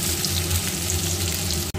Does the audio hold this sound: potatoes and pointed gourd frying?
yes